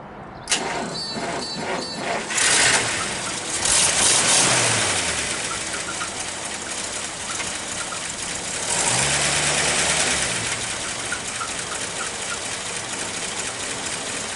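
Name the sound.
car engine cranking over and idling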